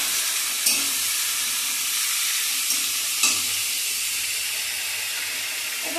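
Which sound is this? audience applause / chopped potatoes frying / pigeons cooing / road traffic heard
chopped potatoes frying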